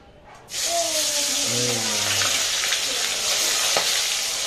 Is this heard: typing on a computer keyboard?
no